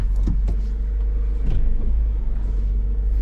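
A Honda CRX drives around the block, heard as a constant low engine rumble and road noise with a few faint clicks and knocks. The sound is steady and moderately loud throughout.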